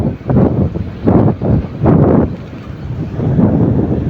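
Strong wind buffets the microphone in an outdoor park, a loud rumbling roar rising and falling in gusts throughout.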